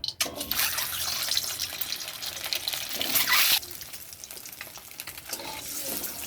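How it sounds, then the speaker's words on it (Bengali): An egg frying in hot oil in a kadai, giving a steady loud sizzle that rises briefly then settles into a softer crackle. "ডিমটাকে ভেজে নেব।"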